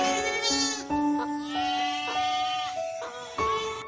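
Goats bleat over and over in a storybook sound effect set among mountain pastures near a village, loud wavering cries that overlap one another with no talk.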